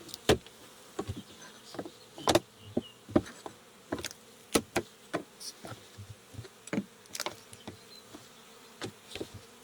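Bees buzz steadily around the hives during a late-spring inspection after winter, mixed with irregular sharp taps and knocks close by.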